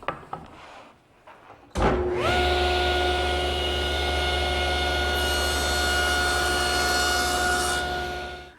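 A power saw spins up with a sharp start and then whines loudly and steadily while cutting tenon shoulders in wood for an all-weather loveseat, winding down at the very end.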